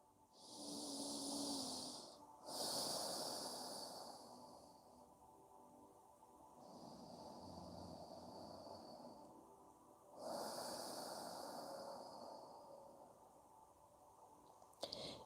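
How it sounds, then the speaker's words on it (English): Slow, deep breaths drawn in and pushed out through the nose during a yoga stretch, close and airy, repeating in long cycles with short pauses between. "breathe through your nose"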